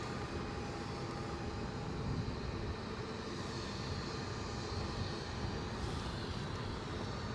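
Qatar Airways Boeing 787 Dreamliner jet at Edinburgh airport, a steady broadband engine rumble and whine that holds at an even, moderate level throughout with no talking.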